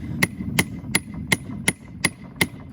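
Blacksmith hammer strikes on the tip of a steel blade being flattened and drawn out, eight sharp ringing metallic blows at a steady, unhurried rhythm over a low background rumble.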